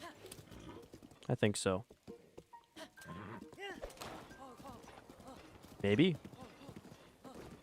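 Horse hooves clip-clop in a Zelda video game while a person talks over them almost continuously, the hoofbeats moderately loud with game sounds around.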